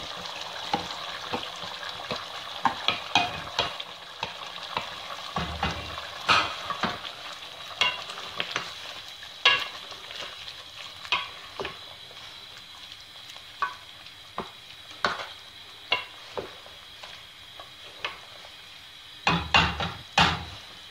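Ground onion paste sizzles steadily in a hot pan for a Punjabi chicken gravy, broken by repeated scraping stirs and occasional louder clanks of the spoon against the metal, close up with no talking.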